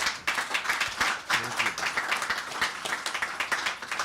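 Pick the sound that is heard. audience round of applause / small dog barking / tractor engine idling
audience round of applause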